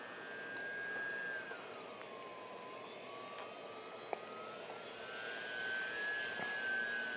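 Model aircraft engine held at about half throttle during a stability test flight, a steady distant whine with a drifting pitch that rises and falls, heard alone without talk.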